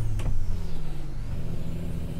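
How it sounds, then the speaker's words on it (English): A heavy-haul truck engine in American Truck Simulator, a steady deep droning rumble with a brief higher whine near the start, loud and continuous with no talking. "I do like the way this engine sounds."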